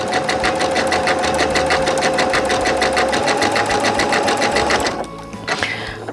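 A sewing machine stitching a rope bowl runs in a fast, even stream of close mechanical needle beats for about five seconds, then stops, leaving a few faint handling sounds.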